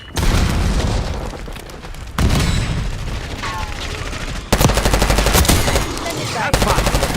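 Black Ops 6 multiplayer battle with a Hellstorm missile strike: loud, continuous automatic gunfire and booming blasts, with abrupt shifts in intensity and a dense rapid-fire burst in the closing seconds, all close and without talk.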